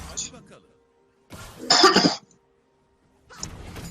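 A man coughs in short harsh bursts, a loud close cough in the middle with quieter throaty coughs before and after, separated by brief silences; speech is mixed in.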